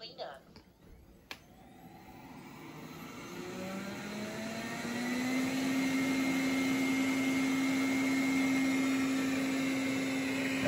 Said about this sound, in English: Let's go ahead and send it out for its second cleaner job.